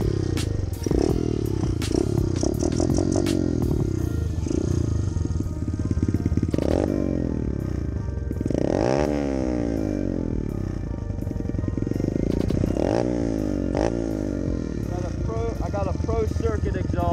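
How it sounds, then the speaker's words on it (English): A mini pit bike fitted with a Pro Circuit exhaust climbs a small hill, its engine revving loud and raspy with repeated rises and drops in pitch, and clattering around it throughout. "this is my last mini hill climb on the pit bike for today."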